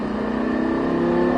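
A race car engine revs up loudly and steadily at Circuit de Haut Saintonge during a driving course, its pitch climbing as it accelerates, close and sustained.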